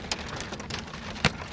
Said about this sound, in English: You can't see the raindrops out there. They're huge. Ooh, there's hail.